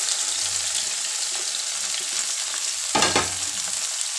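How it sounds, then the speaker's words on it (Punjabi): Fried potatoes tumble into a pan of tomatoes and ginger, a loud constant sizzle and frying hiss with a burst of crackling when the pieces drop in. "ਹੁਣ ਇਹਦੇ ਵਿੱਚ ਆਪਾਂ ਆਲੂ ਪਾ ਲੈਣੇ ਆ ਜਿਹੜੇ ਫਰਾਈ ਕੀਤੇ"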